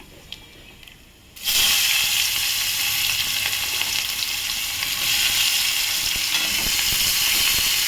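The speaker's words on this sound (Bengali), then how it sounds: "পেঁয়াজটা ভেজে ফিরছি। পেঁয়াজটা ভাজা হয়ে গেছে।" Onions frying in a pan: after a quiet opening second, a loud, steady sizzle of oil bursts in and carries on evenly to the end, close and continuous with no talk.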